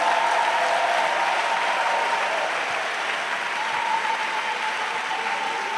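A church congregation claps together for Jesus, steady sustained applause from a large crowd filling the room at even loudness, with a faint tonal hum running underneath.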